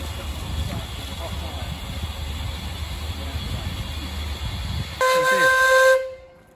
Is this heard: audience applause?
no